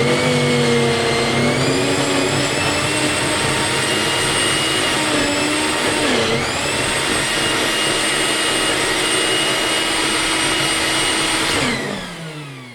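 Kitchen blender whirring steadily while emulsifying homemade mayonnaise, a loud continuous motor drone with a brief pitch dip midway, then winding down as it is switched off at the end; no talking.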